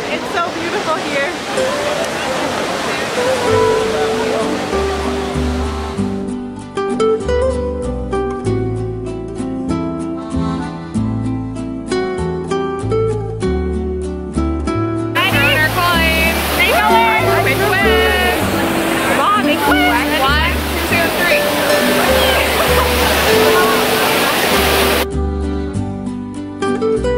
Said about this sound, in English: Hello from the Trevi Fountain! It's so beautiful here.